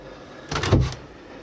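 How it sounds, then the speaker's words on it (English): A door on a boat cabin is opened, giving a brief clunk and rattle of latch and panel against quiet background. "I'm trying to open doors"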